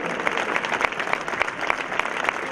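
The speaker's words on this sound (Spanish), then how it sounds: "A todos los muchachos y muchachas de la banda también un fuerte aplauso para ellos" A concert audience claps for a music band, a dense continuous round of applause with distinct sharp claps popping through.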